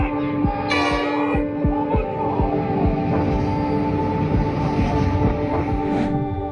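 An oncoming train rumbles steadily near a railway track with a sustained horn-like tone, overlaid by rhythmic clacking and a few brief high-pitched bursts.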